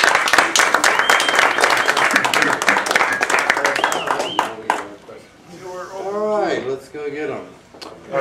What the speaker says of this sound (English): We should applaud first